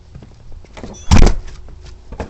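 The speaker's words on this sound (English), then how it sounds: "Lock the door." A door is locked with a sharp mechanical clack and thump in the middle, set against quiet room sound with faint small clicks around it.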